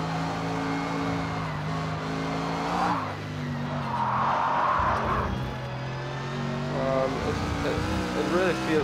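A Mercedes SLS GT3 race car in Project Cars 2 runs with a steady droning engine while its tires scrub and squeal in long, grinding stretches. Someone talks over the car throughout.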